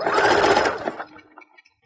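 A sewing machine runs a zigzag stitch along the folded edge of a leotard, a loud steady mechanical whir at close range for about a second before slowing and trailing off into a few faint clicks.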